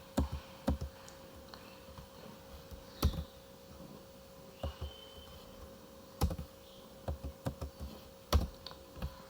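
Computer keyboard keys are typed in short, sparse bursts of crisp clicks, close and fairly quiet over a faint steady hum, while a host name is entered on a Red Hat Linux server.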